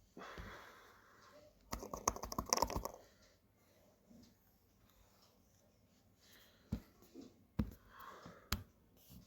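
Short bursts of keyboard typing to write out a word, a cluster of quick clicks followed by a few isolated key taps, close but fairly quiet.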